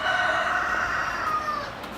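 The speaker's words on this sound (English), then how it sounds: "That rooster has been going all morning." A rooster crows in a hillside village in Nepal, one long, strained call held for about two seconds and fading at the end, heard clearly but from some distance over a quiet background.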